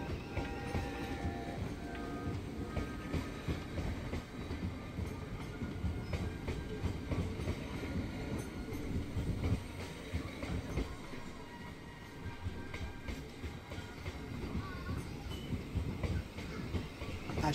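A train passing at Strood station, a steady loud rumble of rolling wheels and rail noise lasting throughout, with some clattering and faint squeals.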